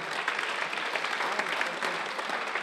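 Applause from a theatre audience at a comedy show in Tashkent, a dense, even wash of clapping heard at moderate distance without any talk over it.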